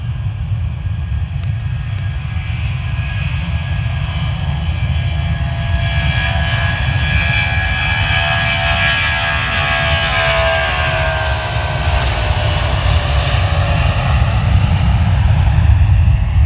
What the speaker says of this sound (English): Jet2 departing to Corfu, Greece, Boeing 737.